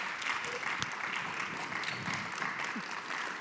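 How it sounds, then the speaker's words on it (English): Steady crowd applause from an audience for a panel at a conversation event, a continuous even wash of clapping with no pauses. "Please give our illustrious panel a round of applause."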